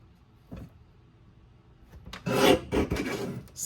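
A paper trimmer slices through scrapbook paper at a card-making workshop, with a short rasping cut near the start and a louder, longer scraping slide of the blade after the two-second mark.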